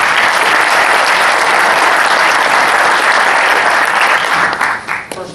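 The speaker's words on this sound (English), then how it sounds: "please, a round of applause for Commissioner Ken" An audience at a State of the Counties membership meeting gives Commissioner Ken a full, dense round of applause, loud and sustained before fading out near the end.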